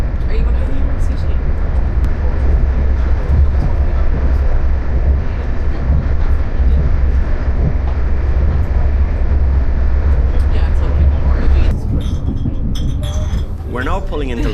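A train rumbles steadily with a loud, broad mechanical roar and faint clinks, then slows near the end as it pulls into Limerick Junction railway station in Ireland.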